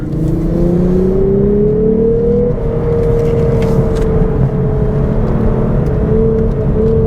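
A 2022 Lexus IS350 F Sport is driven hard through corners, its engine note a loud, steady drone that rises and settles as it pulls, heard from inside the cabin with road rumble beneath.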